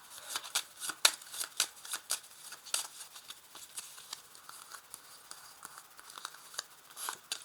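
Tarot cards, the major arcana, being handled and shuffled close by, with soft papery flicks, riffles and light slaps in an uneven rhythm and no talk.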